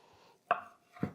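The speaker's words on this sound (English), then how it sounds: "I'm just going to start chopping it down" A knife chops through cooked chicken into bite-sized pieces on a board, two quiet distinct thunks a half-second apart with no talking.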